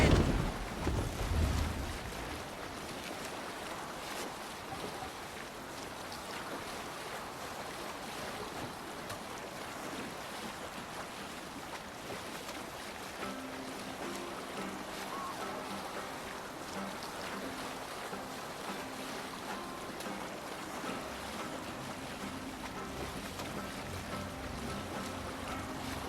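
Longship sailing in Assassin's Creed Valhalla: steady wash of waves and rushing wind on open water, continuous and moderately loud throughout with a faint tonal game score underneath.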